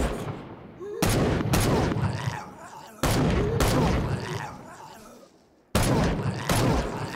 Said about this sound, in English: We're gonna use a pistol now. Shit, I can't run when I'm reloading.